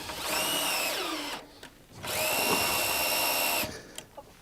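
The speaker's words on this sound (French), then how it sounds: "et je fixe avec des vis autoforantes" A power drill drives self-drilling screws through wooden decking boards into a steel double-frame substructure, two loud close bursts of whining motor that rise and settle, separated by a short pause.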